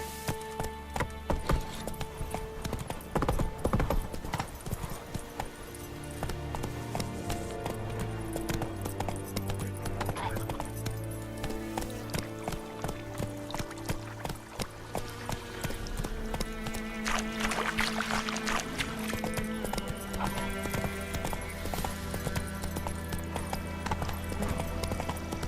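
Roach, Geralt's horse in The Witcher 3, clip-clops steadily at a trot over a continuous game soundtrack of music and ambience, hoofbeats close and rhythmic throughout, with a brief whinny.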